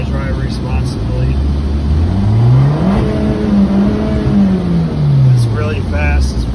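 A 2013 Fiat 500 Abarth engine revs loudly up and back down in one long sweep, close and raspy, with a second rise near the end.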